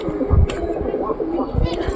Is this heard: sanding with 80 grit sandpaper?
no